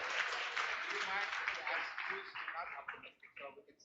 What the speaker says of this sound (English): Give applause for all of us.